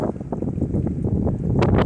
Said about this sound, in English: Really windy and cold out here